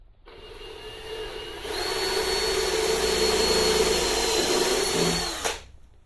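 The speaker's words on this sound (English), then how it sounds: "I'm going to drill this hole out" A power drill bores out a hole in a bed frame under construction, its motor spinning up into a loud, steady high whine for about four seconds before winding down and stopping.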